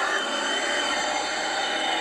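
Subway train in the video game Roblox Livetopia, a steady loud rumbling roar with rail noise filling the whole stretch, no voices over it.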